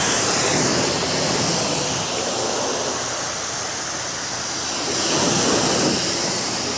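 Water sprays steadily from a hose to rinse soap off the sunny side of a car, a broad continuous hissing rush that swells slightly near the end.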